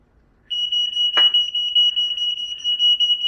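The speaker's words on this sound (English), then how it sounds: "Smoke detector B." A household smoke detector sounds during a test, a shrill continuous high-pitched beep that starts abruptly and holds steady and loud, with a brief noisy clatter near the start.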